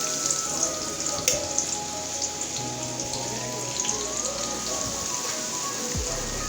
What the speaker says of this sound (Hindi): इसको बस हमने थोड़ा सा सौते करना है।